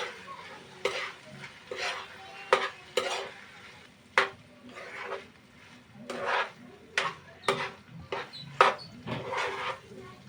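Prawn biryani is stirred in a pan on the stove, with repeated rhythmic scraping and clattering strokes from the utensil over a soft background sizzle, close and fairly loud.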